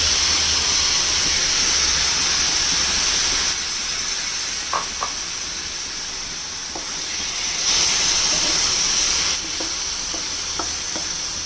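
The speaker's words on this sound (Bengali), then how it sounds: "এবারে তিল আর নারকেলের পেস্টটা এটার মধ্যে দিয়ে দেবো।" Sesame and coconut paste sizzles in a hot pan for hog plum chutney, a steady bright hiss throughout with a few soft clicks and scrapes of stirring and no talking.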